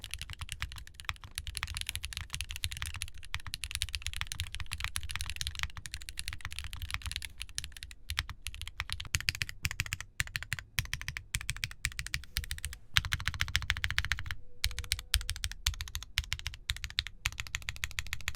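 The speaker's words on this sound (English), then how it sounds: "here's how the QK65 sounds without any foam at all." Typing on a QK65 mechanical keyboard with no foam inside, a continuous close, quiet clatter of keystrokes with no voices.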